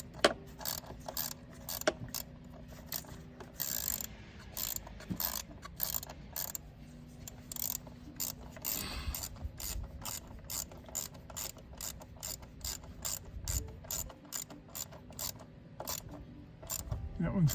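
Ratchet tightening the fuel rail bolts on a GMC Yukon during a fuel injector replacement, a long series of quick, fairly quiet clicking bursts in irregular runs, with faint background noise.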